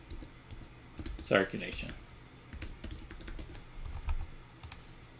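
Rapid, close keystrokes on a computer keyboard continue throughout, with a brief spoken word partway through.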